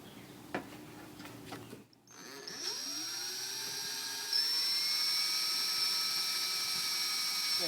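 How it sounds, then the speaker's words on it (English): After a brief pause, a power drill spins up to a high, steady whine and keeps running, climbing slightly in pitch as it drills out spot welds on a 1966 Ford Mustang's rusted steel body. "Now we're just going to go ahead and drill these spot welds out."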